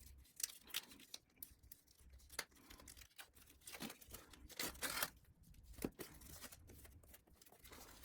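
Cellophane wrapper being torn and crinkled off a My Hero Academia limited edition Blu-ray and DVD box set, a close, fairly quiet series of sharp crackles, rips and rustles in irregular bursts.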